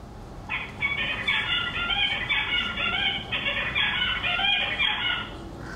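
A male songbird sings a repeated, structured phrase of bright chirps and trills, played back from a recording, close and clear over a low steady hiss.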